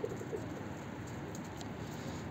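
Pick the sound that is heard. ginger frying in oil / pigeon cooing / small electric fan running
pigeon cooing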